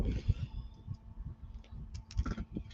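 Wire is snipped while a wind chime is being made, giving a few small, sharp, close clicks spread out amid quiet handling noise.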